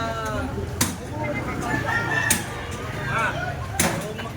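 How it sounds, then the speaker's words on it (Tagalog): A red fighting rooster crows in a crowded Manila neighbourhood, its harmonic calls rising a few times over steady background noise, with sharp knocks and faint voices around it. "Manok na pula"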